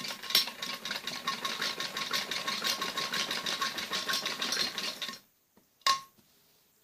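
Piping gets stitched onto a kameez back neck by a sewing machine, whose fast, even mechanical whir runs close and loud for about five seconds, then stops abruptly, followed by near silence and one short clunk.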